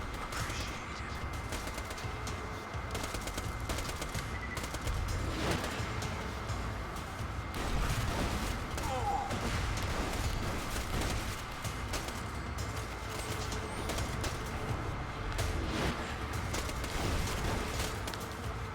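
Sustained gunfire in Borderlands 2, with continuous rattling bursts and sharp reports layered over a steady rumble of combat noise for nearly twenty seconds.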